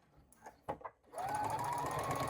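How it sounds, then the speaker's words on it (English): A sewing machine back-stitches across a backpack's lower front exterior panel, zipper and pocket lining at a 3/8 inch seam: a few short clicks and thumps, then a steady close whirring run. "Back stitching, sewing at 3/8 of an inch"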